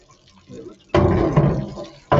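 Water runs from a tap while an engine part from a valve cover gasket job is rinsed and flushed, a loud steady splashing gush that starts abruptly, stops, then resumes.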